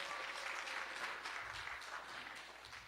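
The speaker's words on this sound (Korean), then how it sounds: "박수로 축하해 주시기 바랍니다" Steady applause from an audience at a university degree-conferring ceremony, a dense even clatter of many hands that holds for about three seconds and eases only slightly toward the end.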